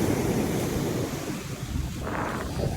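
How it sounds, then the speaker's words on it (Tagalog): Strong sea waves break and wash up a beach in a steady, loud roar with wind buffeting the microphone, a brief brighter surge of surf near the end. "Ayan yung lakas ng alon o."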